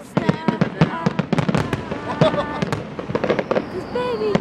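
Fireworks burst in rapid succession, sharp cracks and pops repeating at an uneven rhythm with crackling tails, loud and fairly close, while music with singing plays along underneath.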